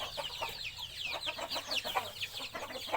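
Chickens raised from chicks cluck in a dense, overlapping flock, with short chirpy calls and squawks repeating steadily at close range.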